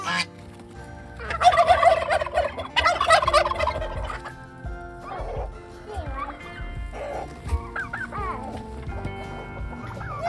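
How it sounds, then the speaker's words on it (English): Turkeys gobble loudly in two close bursts in a farm barnyard, followed by softer scattered bird calls and clucks over a low background rumble. "Some of the turkeys escaped, so we have some turkeys."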